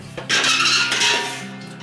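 A sharp metallic clank of two metal grates and a large paella pan knocking together in a water smoker attachment, followed by a short ringing rattle that fades.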